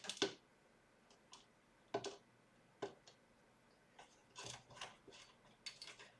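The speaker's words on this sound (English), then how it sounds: "I make sure to first screw counterclockwise until you hear a little tick" A small plastic screw inside a compact Macintosh SE/30 case is turned counterclockwise, giving a series of faint, sharp clicks and ticks spaced irregularly and heard up close with no talk.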